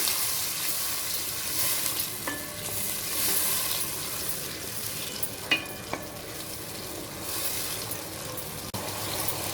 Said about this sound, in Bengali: আমার মশলাটা ভাজা হয়ে গেছে, আদা রসুনটা কাঁচা গন্ধটা চলে যাওয়া পর্যন্ত ভেজে নিতে হবে